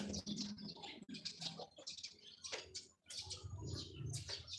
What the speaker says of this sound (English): say hello to the birds in my background, and also the chickens and the roosters there